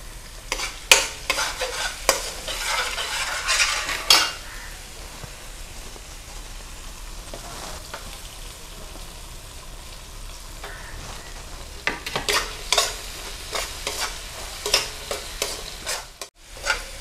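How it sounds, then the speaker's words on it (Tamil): Green chillies and softened tomatoes sizzle in a pan while being stirred, a steady crackling fry broken by repeated scraping strokes of a spoon, close up and fairly quiet. "இப்போ பச்சை மிளகா போட்டுருவோம்."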